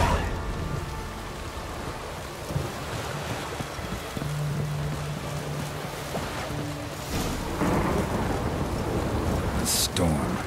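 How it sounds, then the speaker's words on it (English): Stormy sea in The Witcher 3 game: a dull wash of wind and surf rolls steadily under the scene, with low rumbles and a sharper crack near the end, no talk. "A storm, damn it."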